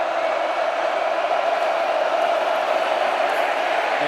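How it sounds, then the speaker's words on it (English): A large college football stadium crowd at a UCLA versus Nebraska game roars steadily before the snap, a dense, sustained wash of far-off voices with no breaks. "This crowd goes 0 to 100 before every snap."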